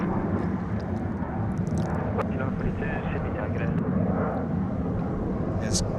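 Jetstar Airbus A320 at Sydney Airport, a loud continuous jet engine roar filling the scene at moderate distance, with a voice talking over it and faint outdoor noises.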